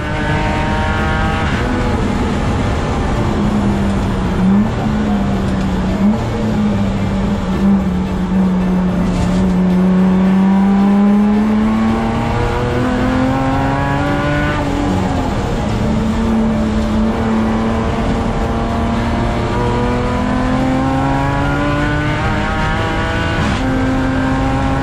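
A race car's engine roars through a loud exhaust during a racing event, its pitch rising and falling through repeated acceleration and gear changes. The sound is sustained and prominent from start to finish.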